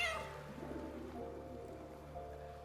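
A single cat meow in Baldur's Gate 3, quiet and drawn out at the start, over a soft steady ambient bed with faint patter in the background.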